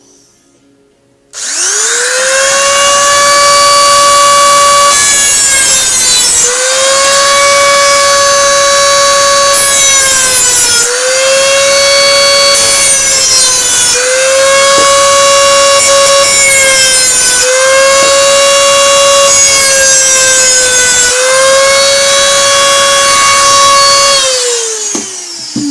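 A drill bit cuts into a metal MK3a Jack Flask hobo stove, giving a loud, continuous screeching whine that rises and dips in pitch through several pushes, with no talking.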